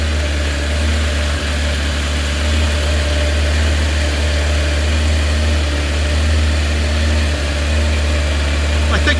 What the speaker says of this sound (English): Sound wise and rev wise, it's quite an intimidating engine.